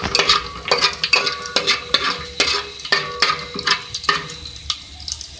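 Black cardamom, cloves and green cardamom frying in oil for a beef aloo fry masala, crackling sizzle punctuated by a rapid series of sharp stirring scrapes and taps against the pan, close and loud.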